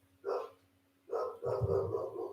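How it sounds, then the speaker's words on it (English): Dogs bark in two loud bursts, the second a longer run of several overlapping barks, with a steady low hum beneath. "Fucking dogs."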